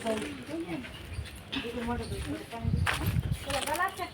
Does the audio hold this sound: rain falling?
no